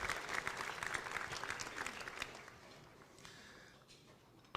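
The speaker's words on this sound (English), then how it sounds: "You may applaud." Audience applause at a Free Enterprise Institute breakfast, a roomful of people clapping loudly at first, then thinning and fading out toward the end.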